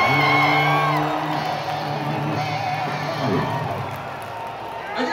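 Concert crowd in Denver cheering and whooping at the end of a set, loud sustained yells and whoops over a broad crowd roar that eases slightly midway and holds to the end.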